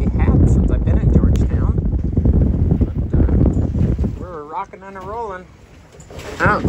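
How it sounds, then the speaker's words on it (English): Heavy storm wind on a sailboat buffets the microphone with a loud, steady roar, and a voice talks over it for most of the clip. "It's the first storm that we've really had since I've been in Georgia."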